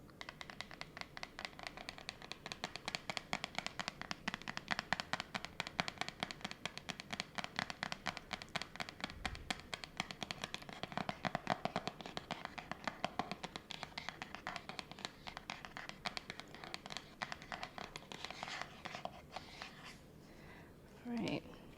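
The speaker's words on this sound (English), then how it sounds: "what I'm gonna do is I'm just gonna shuffle." Tarot cards are shuffled by hand close to the microphone, a steady run of rapid soft flicks and riffling taps lasting many seconds, ending with a brief scrape.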